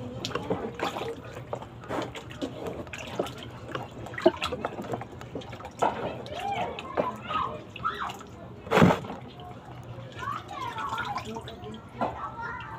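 Food being rinsed in water before cooking a pork sinigang with corn: intermittent sloshing, trickling and splashing, with one louder splash near the end, while a person talks over it at times.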